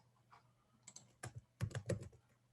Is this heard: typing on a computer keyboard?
yes